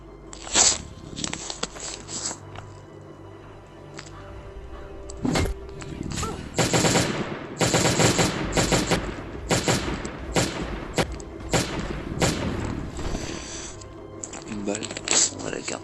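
Gunfire in the mobile survival game Last Day on Earth, at an old farm: scattered shots and a few denser bursts mixed with other game sounds, mostly under someone talking.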